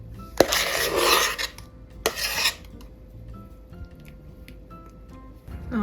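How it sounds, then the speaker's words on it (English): A spoon scrapes and stirs sticky toffee pudding batter in a greased bowl, in two bursts: a longer, loud scraping stretch, then a shorter one, followed by quiet. "just mix it in using a spoon"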